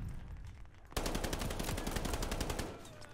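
Gunfire in a Call of Duty Vanguard gunfight: after a quiet second, rapid automatic bursts erupt, loud and close, rattling steadily with fast repeated cracks for about two seconds.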